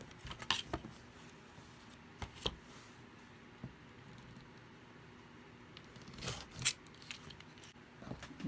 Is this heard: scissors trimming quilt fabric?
yes